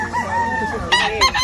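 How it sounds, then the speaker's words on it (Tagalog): A rooster crows nearby, loud and drawn out, with a rising bright call near the end; background voices murmur underneath. "Manok mo yan?"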